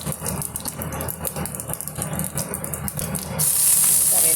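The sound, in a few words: tempering sizzling in hot oil in a pan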